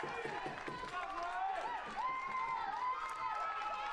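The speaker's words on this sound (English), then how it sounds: "North Carolina crowd coming alive." Baseball crowd cheering after back-to-back stolen bases at a North Carolina game, a steady roar of voices and whistles under a commentator talking.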